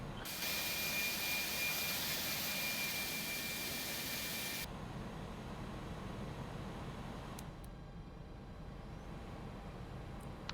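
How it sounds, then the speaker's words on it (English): An Airbus A300-600F jet engine starts up in a flight simulator game, a steady rushing whine under a broad airy hiss that cuts out abruptly partway, leaving a lower, quieter rumble with faint clicks. "You may start your engines."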